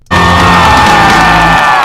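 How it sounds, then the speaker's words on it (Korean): Musical theater performers in the audience rise for a standing ovation after a Death Note musical number, a loud, dense wall of crowd cheering and yelling that swells suddenly and holds steady alongside sustained tones. "현역에 있는 뮤지컬 배우들이 기립박수를 보내죠"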